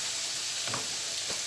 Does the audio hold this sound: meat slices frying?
yes